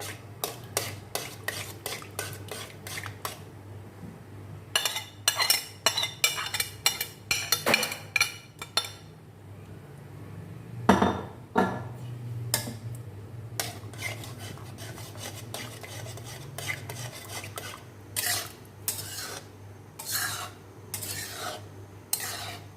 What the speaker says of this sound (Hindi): हम इसको जब तक स्पून चलाते रहेंगे जब तक इसमें बॉईल नहीं आ जाएगा